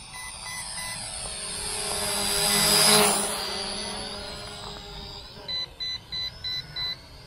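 Five short electronic beeps from a drone controller in an even rhythm ring out near the end, following a loud whirring motor of a brushed S162 mini drone sweeping close and fading.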